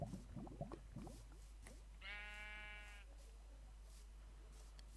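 A single Minecraft sheep bleat, clear and wavering, after a few faint soft clicks, then quiet background hiss.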